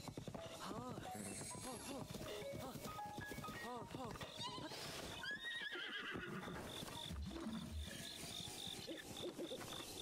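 A horse in a video game neighs and whinnies repeatedly while clip-clopping hooves and game music play underneath, loud and close, with talk over it.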